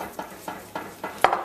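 Spoon stirring a thick corn cou cou mixture in a pot with the heat off, giving soft scraping knocks at a slow, steady rhythm with one sharper clink near the end, close and fairly quiet.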